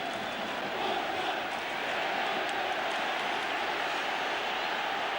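A large football crowd in Wales's National Stadium applauds goalkeeper Neville Southall's save during a European Championship qualifier against Germany, a dense, steady roar of clapping and cheering that fills the whole stretch.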